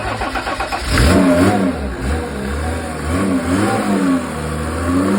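A Mercedes OM606 diesel engine driving a water pump revs up loudly and holds a throbbing, rising and falling roar close by, with no talking.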